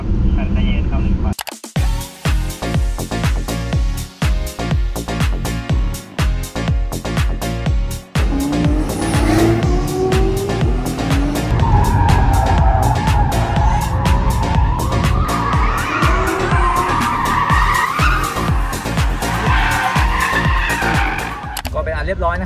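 Porsche sports car lapping a test track at the 2021 Porsche World Road Show, with a loud, sustained engine roar rising in pitch as it accelerates, bursts of tire squeal, and an instructor talking throughout.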